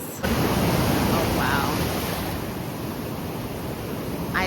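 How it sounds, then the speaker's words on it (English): Ocean surf washes steadily onto a beach, a loud, continuous broadband rush with little break, close to the listener and heard alone without voices. "I just sit down on the beach and I just watch the waves"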